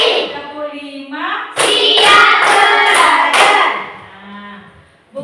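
A classroom of students claps out a rhythmic chant pattern: about four evenly spaced, loud group claps in quick succession, mixed with children's chanting voices and teacher speech before and after.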